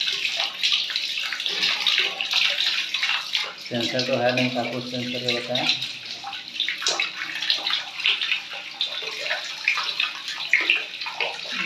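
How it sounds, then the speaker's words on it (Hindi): Hot water from a newly installed Crompton electric geyser pours steadily from a tap in a bathroom, a continuous hiss of running water close by, with someone talking over it. "ये मेरा गर्म पानी आना स्टार्ट हो गया हुआ है"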